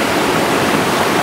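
A narrow river at a jungle campsite in Perak, Malaysia, rushes steadily in a dense, close, continuous wash of water noise with no voices.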